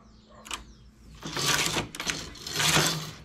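Knitting machine carriage sweeping across the needle bed while knitting rows for rounded-side shorts, heard as two loud rattling, swishing passes with a brief pause between, after a few faint clicks.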